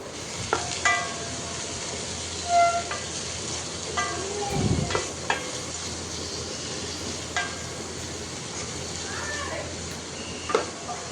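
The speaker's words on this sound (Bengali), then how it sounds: "তো এখানে প্রথমে আমি করলা ভাজিটা করে নিচ্ছি।" Bitter gourd frying in a rice cooker, with a low steady sizzle and scattered light scrapes and clicks of stirring throughout, fairly quiet and without talk.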